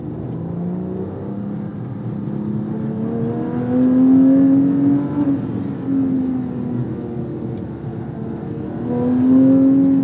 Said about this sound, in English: the engine and the howl on this is so special